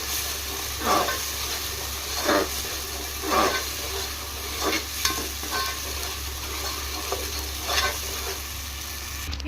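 A paste of ground coconut, onion and tomato frying in a kadai, a constant hissing sizzle with periodic scraping swishes as a spoon stirs it, close and fairly loud, with no voices.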